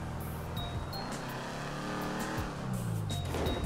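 Car in GTA 5 driving up a long ramp, engine droning steadily with shifting pitch as it climbs, up close and alone with no talk over it.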